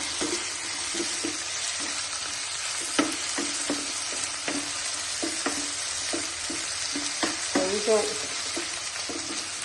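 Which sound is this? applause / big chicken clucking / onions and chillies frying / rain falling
onions and chillies frying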